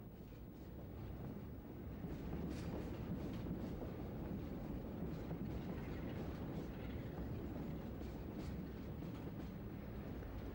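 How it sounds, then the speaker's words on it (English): A China Clay empties freight train hauled by a Class 37 locomotive waits at the east end of Par Station in 1987, giving a steady low rumble and idling drone with some wind noise throughout, no voices. "a China Clay empties awaits the passage of the Mondays only UKF fertilizer train"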